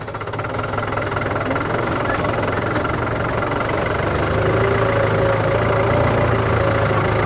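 A TD80 tractor engine runs steadily at a low idle-like rumble, continuous and close throughout with a constant mechanical hum and vibration, no talking.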